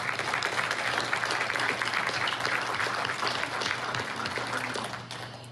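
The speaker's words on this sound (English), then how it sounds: "I'd like everyone to give a big round of applause to these candidates." An audience at an organization's chairperson election applauds the candidates after a question segment, a dense, sustained clapping that tapers slightly toward the end.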